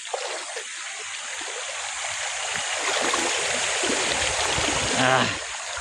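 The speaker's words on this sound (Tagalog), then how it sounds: "Ang lakas kasi ng agos oh." Strong river current rushing and splashing steadily while people wade across, a continuous loud broadband roar with a brief voice near the end.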